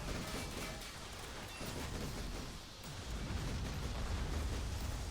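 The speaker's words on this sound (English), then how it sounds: "Oh, explosion above me." A loud explosion bursts overhead in a Warhammer 40k video game mod, followed by a dense rumbling roar of blasts and battle noise that continues for several seconds without speech.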